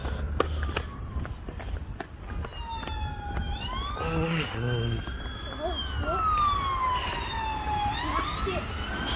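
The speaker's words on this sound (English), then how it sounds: "The ambulance, bro." An ambulance siren wails at a roadside accident scene in Rochdale, a moderately close, sweeping tone that rises and falls steadily over background street noise and some footsteps.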